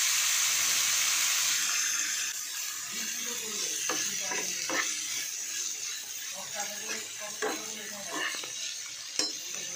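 Chicken salami cooking slowly in a pan, a soft steady sizzle with intermittent stirring and scraping clicks from a utensil against the pan.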